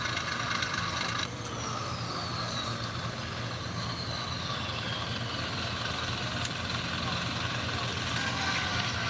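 A Challenger 2 tank's engine runs with a heavy, steady low rumble and idle drone close by, with no speech in the clip.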